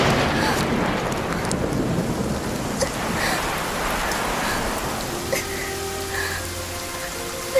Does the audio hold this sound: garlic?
no